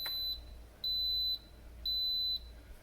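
Three evenly spaced electronic beeps from an Instant Pot after pressing start, each a steady high tone lasting about half a second, with short pauses between, close and clear over quiet room hum.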